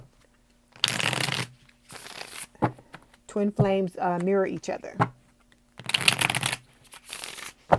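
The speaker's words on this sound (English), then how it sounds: "I had to shuffle off camera because it's blowing the cards." Tarot cards riffle-shuffled close by in quick papery bursts, two long shuffles at the start and end with shorter flicks between, while a person speaks briefly in the middle.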